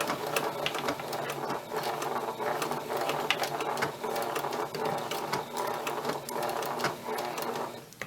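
A sewing machine stitches a collar with a continuous, rapid mechanical whirring and needle chatter, close and steady throughout, with slight shifts in pace and no talking.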